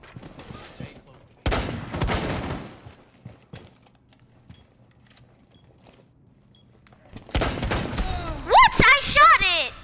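Gunfire in a Rainbow Six Siege-style video game, two loud close bursts of shots separated by quiet, the second burst overlapped by an excited voice talking.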